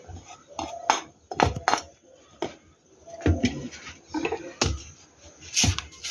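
A spoon folds cake mixture in a bowl while making brownies, giving soft scraping strokes and occasional clinks against the bowl, close and intermittent, with quiet room sounds between movements.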